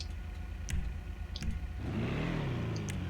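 A Benefactor Schafter V12 Armored in GTA, fitted with a race exhaust, revs up sharply after a few light menu clicks, its engine swelling into a loud, steady roar for the final second.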